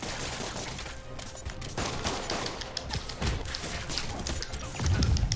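Thugs in the Spider-Man PS4 video game open fire during a jewelry store heist, with dense rapid gunfire crackling continuously and a heavier burst near the end.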